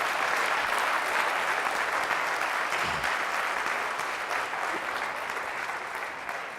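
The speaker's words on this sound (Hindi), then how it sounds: "जोरदार तालियों से खुदा के नाम को जवाब।" Loud, sustained applause from a church congregation fills the space, a dense wash of clapping that holds steady and tapers only slightly toward the end.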